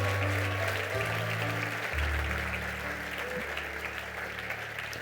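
Church congregation applauding steadily, a broad sustained wash of clapping from a crowd that fills the whole moment, moderately loud with a low musical tone sustained underneath.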